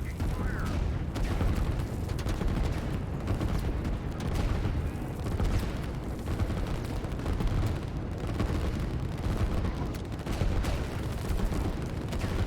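Artillery fire and explosions from the real-time strategy game Line War form a dense, continuous rumble of booms and crackling blasts, loud and unbroken, with a voice talking underneath.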